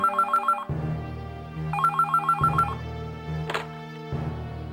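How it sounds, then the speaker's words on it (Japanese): A telephone bell rings in the detective adventure game Cross Tantei Monogatari: repeated electronic trills in bursts, loud and close over low, steady game music. "突然電話のベルが鳴り響いた"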